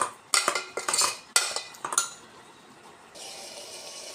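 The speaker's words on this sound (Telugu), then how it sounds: "ఇట్లా బాగా కొంచెం సేపు ఇలా కలపాలండి." Food is stirred and mixed in a pot while cooking mutton masala, with a run of metal spoon clinks and scrapes up close, then the clatter stops and a soft, steady hiss carries on alone.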